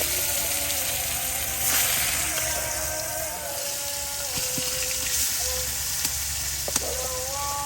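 Native koi fish frying in a pan, giving a steady, moderately quiet sizzle with light stirring and scraping of a utensil and a few soft clinks; no one speaks.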